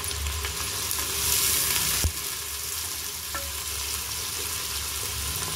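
Two large onions sizzling and frying steadily in a hot pan for a paya curry, with a broad continuous hiss, a brief stir or tap partway through, and no talking.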